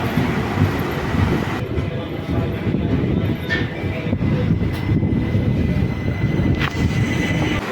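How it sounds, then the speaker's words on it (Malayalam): The Maveli Express arrives at platform 2 of Kollam Junction station at night, rumbling steadily nearby with a low, continuous roar, while people talk in the background and occasional higher tones ring out. "മാവേലി എക്സ്പ്രസ് പ്ലാറ്റ്ഫോം നമ്പർ 2 വന്നുകൊണ്ടിരിക്കുകയാണ്"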